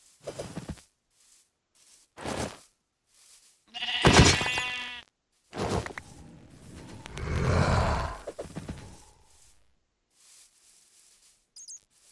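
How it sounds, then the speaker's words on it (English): Sheep bleating in modded Minecraft, several separate game bleats in short bursts with gaps of silence between, one longer wavering bleat in the middle, clear and close with no talking. "A sheep right there."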